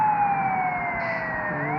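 An ambulance siren from the game Bus Simulator Indonesia wails steadily with a slowly falling tone, loud and continuous over low engine rumble.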